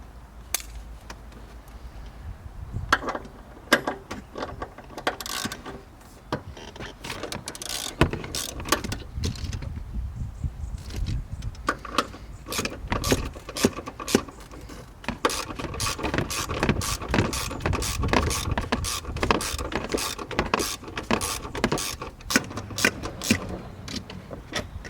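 Socket wrench on a 14 mm socket backing out a long seat bolt in a Mazda MX-5 RF during a racing seat install, steady close ratcheting clicks in rapid bursts with occasional metallic clanks and pauses.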